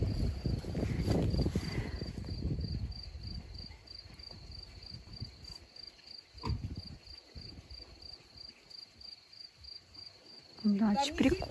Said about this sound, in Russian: Какие-то птички или сверчки.